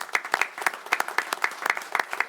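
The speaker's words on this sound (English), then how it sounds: "let's give a round of applause one more time" Township board meeting audience clapping, a short burst of dense, rhythmic claps from a modest crowd, fairly close and steady throughout.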